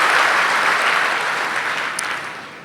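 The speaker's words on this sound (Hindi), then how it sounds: "अब ताली बजा लो" A gathering at a spiritual talk claps together, a loud, dense wash of applause from a sizeable audience that slowly fades toward the end.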